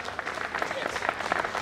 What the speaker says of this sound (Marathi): आपण त्यांच्यासाठी एकदा जोरदार टाळ्या वाजूया